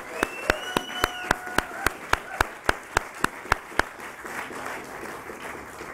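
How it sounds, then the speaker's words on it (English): During a Nasdaq opening bell ceremony in Times Square, New York, about a dozen sharp, evenly spaced claps ring out close by. A brief electronic tone sounds at the start, and the claps stop before a quieter tail. "I think that deserves another big round of applause"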